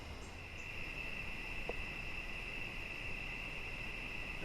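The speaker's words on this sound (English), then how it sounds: "Those crickets are incredibly loud." A constant high-pitched trill of crickets fills the night air at an overnight hammock campsite, steady and unbroken, with no voices.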